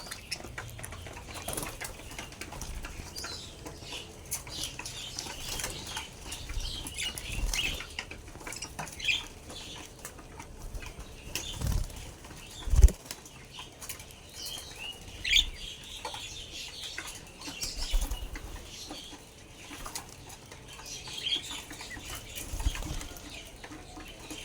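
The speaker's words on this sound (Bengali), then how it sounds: "দেশি ঘুঘু পাখিও পাবেন, বিদেশি ঘুঘু পাখি পাবেন, সকল কালারের ঘুঘু পাখি আমার কাছে আছে" Native and foreign doves of many colours flap their wings in a cage, with repeated bursts of papery fluttering and one sharp knock midway, close and fairly loud with no talking.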